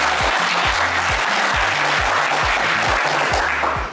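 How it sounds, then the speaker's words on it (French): A studio audience on a televised game show applauds loudly and steadily for the full length, a dense wash of clapping with a low, rhythmic stepped tone running beneath it. "Et ça s'applaudit très fort."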